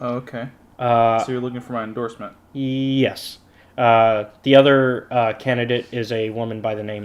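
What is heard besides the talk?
No everyday noise stands out behind the speech.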